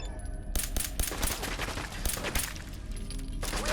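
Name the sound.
gunfire in the video game Fallout 4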